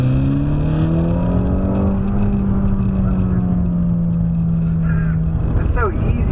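A VW GTI with a Cobb Accessport tune pulls hard in second gear at full throttle, its engine note rising steadily and loud inside the cabin before easing off.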